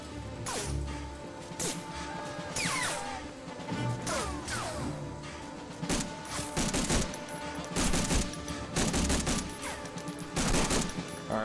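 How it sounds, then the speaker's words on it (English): Machine gun fire in the Medal of Honor Frontline video game, sharp repeated bursts and single shots cracking over a busy battlefield din, with occasional crashes and whooshes mixed in. "let's not waste ammo trying to snipe with a machine gun"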